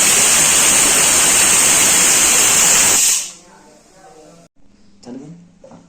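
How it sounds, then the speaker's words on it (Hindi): A pressure cooker cooking rice on a medium gas flame lets out a loud, sustained steam whistle for about three seconds, then cuts off, leaving quiet kitchen sounds and a voice talking. "अब इसमें सीटी बजने वाली है कुछ।"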